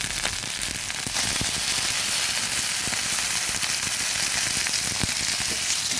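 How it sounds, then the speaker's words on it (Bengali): Onion and ginger paste frying in a pan with chopped onion and green chili, a dense continuous sizzle with small crackles and occasional stirring scrapes, close and alone. "পেঁয়াজ কুচি আদা পেঁয়াজকে সব ভালো করে ভেজে নিচ্ছি"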